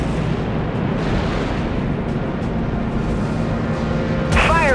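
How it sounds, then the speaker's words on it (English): Vulture missiles launching in the spaceship combat game Dreadnought: a loud, continuous roaring rumble that fills the clip, with a brighter burst near the end. "Launching Vulture missiles."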